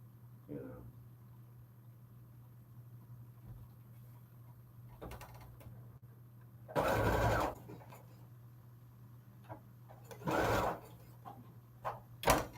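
A sewing machine stitching a flag, with short bursts of close, rapid mechanical whirring separated by quiet pauses, plus a few clicks and handling noises in between.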